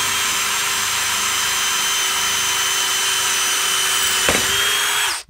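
Power drill fitted with a 6mm bit boring a hole in wood, a loud steady high whine held for about five seconds, then dropping off as the drill stops.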